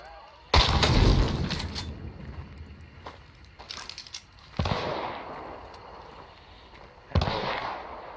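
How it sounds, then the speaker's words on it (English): Video game gunfire comes in three sharp bursts of shots at the start, middle and end, close and loud, with rattling crackle between them and no talk. "He's shooting at somebody still."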